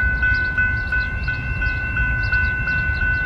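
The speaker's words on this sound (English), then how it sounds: "UP North train number 311 to Waukegan is now arriving." Metra UP North commuter train 311 arrives at Glencoe station, Illinois, with a loud, close, continuous rumble and a sustained high tonal whine running throughout.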